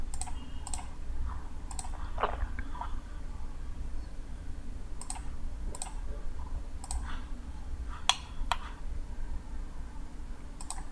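Sharp computer mouse clicks come in a steady rhythm while a CAD drafting program is worked, with single and double clicks spaced over a faint room hum and no talking.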